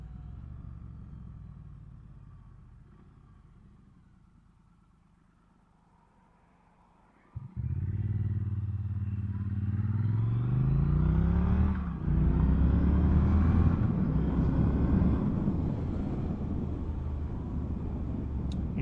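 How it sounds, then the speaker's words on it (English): A 2021 Triumph Street Twin Gold Line parallel-twin motorcycle with an upswept exhaust rides along, its engine note dipping quietly, then surging loud into a rising, burbling pull with wind rush as it accelerates. "with it being a twin, you just get that beautiful, crisp, clear sound. Nice burble coming from the upswept exhaust at the back."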